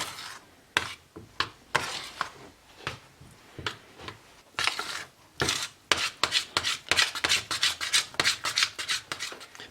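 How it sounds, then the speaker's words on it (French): A utensil scraping and stirring chocolate as it melts in a saucepan, a run of rasping strokes, sparse at first then quickening into a dense, regular rhythm, close and fairly loud, with no voices. "Touiller tout le temps parce que sinon on risque d'avoir, ça risque d'accrocher."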